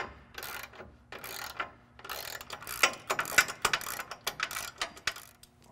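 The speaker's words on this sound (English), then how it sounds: "Last, we're going to tighten down our 2 3/8 bolts." A ratchet cranks down 2 3/8 bolts on Step & Trail Edition rock sliders being fitted to a Toyota Tacoma, giving bursts of rapid close clicking with short pauses between strokes, no talk.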